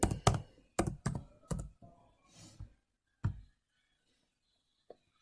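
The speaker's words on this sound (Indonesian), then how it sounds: "kita dapat mengetik dengan Python" A Python version command being typed on a computer keyboard, heard as a quick burst of clacking keystrokes followed by a few sparse, separate key taps, close and clear with no talking.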